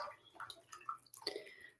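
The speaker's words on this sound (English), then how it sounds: "I just have a big bowl of water here. So I don't have a sink in my office. We're going to rinse that off." Hands being rinsed in a big bowl of water in an office, with a few soft splashes, drips and trickles, close and quiet, lasting under two seconds.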